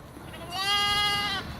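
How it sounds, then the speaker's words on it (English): A goat or sheep bleats once on a farm where new lambs have just arrived, a loud, close, wavering cry lasting about a second, with no talking around it. "I'm learning to speak goat or sheep or whatever it is."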